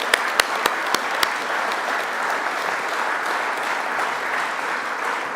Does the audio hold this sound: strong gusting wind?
no